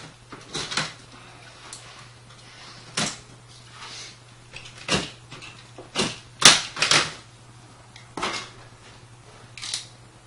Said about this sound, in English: then you can just break them off